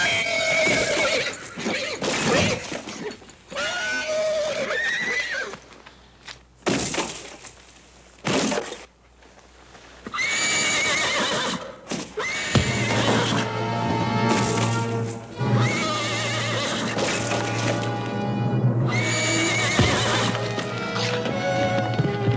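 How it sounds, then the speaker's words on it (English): Horses neigh loudly several times over clattering hooves in a western chase scene, with crashes and breaking glass between the whinnies, all loud and close. "Watch out for that other horse."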